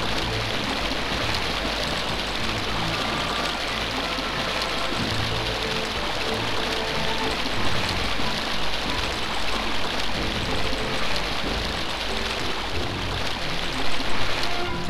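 Steady flowing water from the video game Resurrection: Return of the Black Dragon, a continuous broadband rushing wash that holds even and fairly loud for the whole stretch with no voices.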